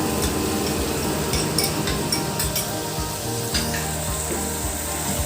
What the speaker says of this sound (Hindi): अब ये इतनी भून चुकी है, मैं इसमें अब नमक डाल देंगे।